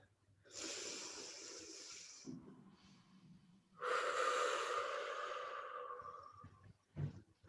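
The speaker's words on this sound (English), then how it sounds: "Inhale through the nose. Exhale through the mouth." A slow, deep breath in through the nose and a long breath out through the mouth during a yoga backbend session, airy and close, with a short pause between them and a soft thump at the end.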